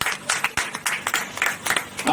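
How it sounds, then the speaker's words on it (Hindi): An audience at a Hindi poetry gathering claps in welcome, dense overlapping applause from a crowd that keeps up steadily throughout. "आप सभी लोग ताली बजा करके आप स्वागत करें"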